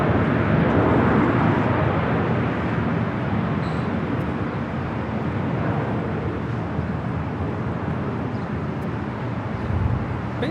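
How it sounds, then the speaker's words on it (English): An MSC Air Cargo Boeing 777 freighter arriving at a large airport, a broad, steady engine rumble that starts loud and eases slightly while holding on, with no voices. "MSC Air Cargo, the 777 freighter arriving on the south side."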